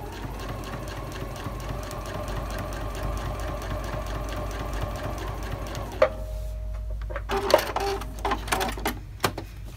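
A sewing machine stitches a quilted Halloween log cabin table topper, running steadily and close for about six seconds before stopping, followed by scattered clicks and handling sounds.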